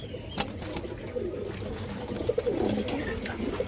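Close, low cooing comes from an orange Chila pigeon hen, a few soft rolling calls rising and falling over a busy background of other birds and faint noise.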